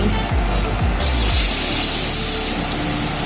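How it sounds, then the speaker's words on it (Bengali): Grated papaya dropped into hot white oil in a wok bursts into a loud, steady sizzle that continues close up after a moment of stirring clatter. "তেলটা গরম হয়ে গেছে এবার গেট করা পেঁপেগুলো দিয়ে দিচ্ছি"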